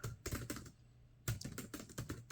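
Keys clatter on a cheap GeoBook laptop keyboard in two quick bursts of typing separated by a short pause, close up, fairly loud and a little hollow.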